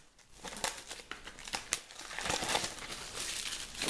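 Plastic shrink-wrap crinkles and tears as it is pulled off an Interstellar collector box set, a Fnac special edition, with sharp crackling bursts and rips close up, no talking.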